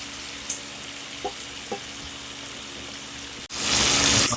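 Shrimp cooking in a pan, a soft steady sizzle up close with a few faint clicks, then a sudden loud burst of hissing near the end as more sizzling kicks in.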